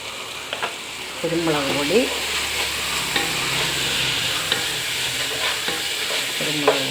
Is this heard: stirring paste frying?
yes